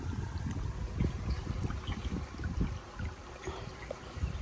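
Stream water pours steadily into a container, a continuous close trickling and gurgling wash with no talk over it.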